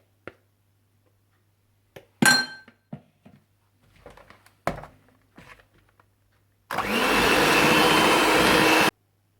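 Cake batter of eggs and flour being beaten for lemon cupcakes: scattered clinks and knocks against the bowl, then a loud, steady whirring drone for about two seconds.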